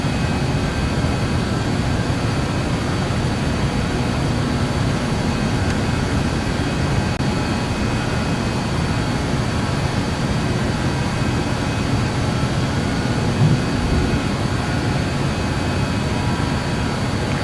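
Jet engines of a Just Flight 146 airliner in Microsoft Flight Simulator roar steadily while the aircraft climbs after takeoff from Rotterdam, a constant, loud, low drone with a faint high whine and no voices.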